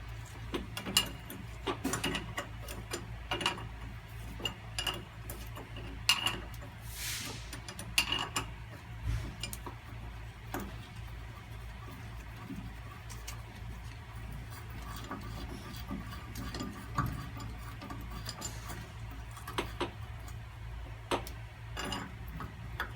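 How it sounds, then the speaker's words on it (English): A 3/4 inch wrench turns a nut to cage an air brake spring, giving scattered metallic clicks and ratcheting ticks at an irregular pace, fairly faint and close. "You have to tighten this nut here all the way down"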